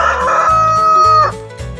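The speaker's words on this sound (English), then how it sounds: "It's a rooster." A rooster crows once, loud and close, a full drawn-out call with clucking tones beneath it, heard alone without talk.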